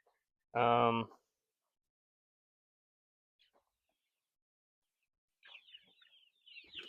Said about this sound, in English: These chicks are outgrowing their brooder.